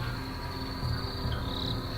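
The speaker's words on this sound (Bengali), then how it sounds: "চারিদিকে জঙ্গল, নিস্তব্ধ, ঝিঝি পোকার ডাক" Crickets in a quiet forest at night give a steady, high, continuous trill that holds evenly throughout, with no voices.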